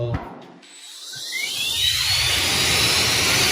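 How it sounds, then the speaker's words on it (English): A powerful high-torque motorized tool spins up from quiet to a loud, high-pitched sustained whine that rises in pitch and then holds steady. "this is probably the strongest foot-pounds of torque power tool system in the world right now"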